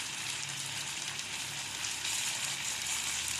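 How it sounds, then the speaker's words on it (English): Potatoes and onions sizzle steadily in a hot pan, a close, continuous bright frying hiss with no talking. "The potatoes are frying really well"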